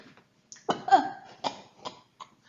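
A man coughs a few times in short, dry bursts with brief pauses between them, close and clear against a quiet background.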